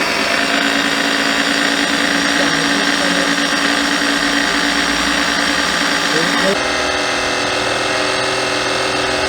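A cheap 12V oil extractor pump runs loud and steady with a whirring, buzzing motor drone and mechanical chatter, and its pitch and load shift abruptly partway through.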